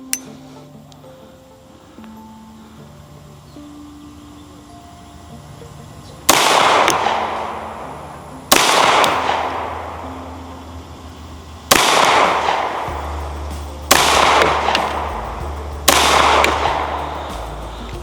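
Five loud, sharp 9mm pistol shots from a Kimber KDS9c fired outdoors on a range, spaced a couple of seconds apart, each with a ringing decay, after a quiet stretch with faint background tones.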